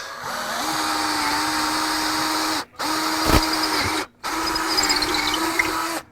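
A power drill reams out a hole for a bullet casing in a cigar box guitar build, running as a steady high whine broken by two short stops, close and fairly quiet, with no talk.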